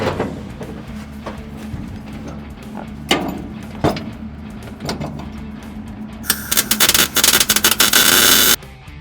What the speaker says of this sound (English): I'm gonna take advantage and weld everything in here that I missed